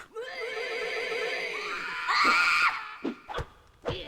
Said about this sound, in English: That was a loud scream.